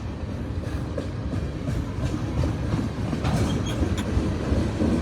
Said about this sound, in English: We've got a little bit of a long train today